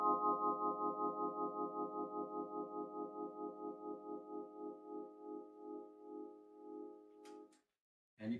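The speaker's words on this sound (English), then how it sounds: "giving us that vibrato sound, and thus the name vibraphone" Sustained vibraphone chord shimmering with rapid, pulsing vibrato from motor-driven fans, loud and close, slowing gradually and fading before a brief clatter at the end.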